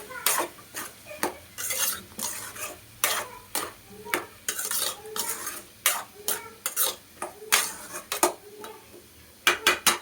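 A spoon stirs drumstick curry in a metal pot, scraping and clinking in an irregular rhythm of close, sharp strokes, with a faint sizzle underneath.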